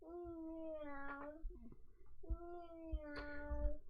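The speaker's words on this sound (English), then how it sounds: "Meow. What does the kitty say?" A cat meows twice, each a drawn-out, fairly close call separated by a short pause, with faint handling noises in between and no speech.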